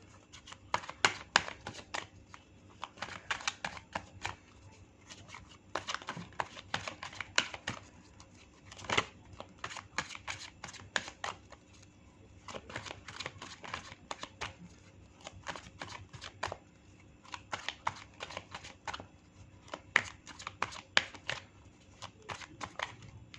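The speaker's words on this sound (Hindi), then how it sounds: "जब तक मैं कार्ड शफल कर रही हूँ आप प्रे कर लीजिए" Tarot cards are shuffled by hand in repeated bursts, a soft riffling and flapping that starts and stops every second or two over a quiet background, close to the listener.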